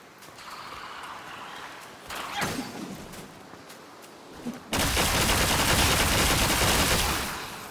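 A launcher weapon fires in Black Myth: Wukong, with scattered shots and a thump around 2.4 seconds, then a loud sustained roaring blast from about 4.7 seconds that lasts to the end.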